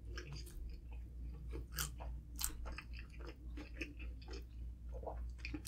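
Someone chews and bites into a Five Guys double cheeseburger up close, with soft, wet, repeated chewing sounds and occasional crunches over a low background hum.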